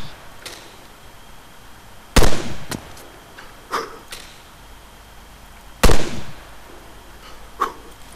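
Gunfire in a video game firefight: two loud, sharp booming shots stand out, with several fainter cracks and pops scattered around them.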